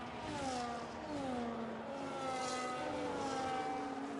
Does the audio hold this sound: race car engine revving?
yes